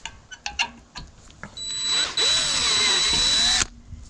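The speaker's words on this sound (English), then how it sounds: "slightly drill all these holes a little bit bigger" A power drill enlarges rivet holes in a race car's panel: after a few light clicks and taps, the motor whines up in a loud, high steady spin that shifts pitch as it bites, then stops.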